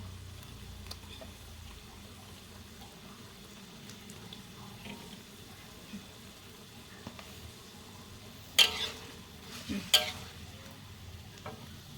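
Quiet, steady sizzle of sambal goreng with liver, gizzard and beef skin frying in a pan, with a few sharp scraping clatters of a utensil stirring near the end.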